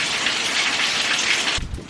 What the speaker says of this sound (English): The wind is starting to get bad